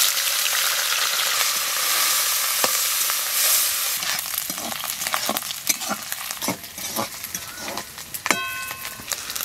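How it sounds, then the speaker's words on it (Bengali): Small snails fry in hot oil in a wok, giving a loud, continuous sizzle. Irregular scraping and clinking stir strokes join in partway through, with no voices. "তেল গরম হয়ে গেছে, এখন গুগুলি দিয়ে দেব।"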